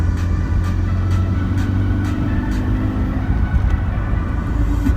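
A Nissan 200SX S13 engine heard from inside the car as it accelerates, a steady loud low drone with a rising rumble and faint rhythmic ticks, no talking.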